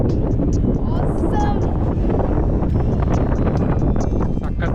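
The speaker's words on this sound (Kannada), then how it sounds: "ಸಕ್ಕತ್ ಗಾಳಿ ಬರ್ತಾ ಇದೆ" Strong wind gusting across an open hilltop on the Periyamalai trek near Bangalore, roaring steadily into the microphone with loud buffeting rumble throughout.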